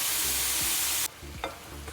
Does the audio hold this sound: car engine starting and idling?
no